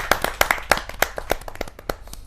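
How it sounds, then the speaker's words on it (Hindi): Sparse, distinct hand claps from a small audience greet a poet at a Hindi kavi sammelan, irregular sharp claps close to the microphone for a couple of seconds. "जोरदार तालियों के साथ"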